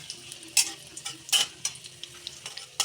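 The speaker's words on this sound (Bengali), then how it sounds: "এখন ওই তেলেতেই ফোড়ন দিয়ে দেবো।" Whole spices, garam masala and asafoetida, temper in hot oil in a wok after coconut has been fried in it. Sharp crackles and pops sound up close over a soft, steady sizzle, with no voices.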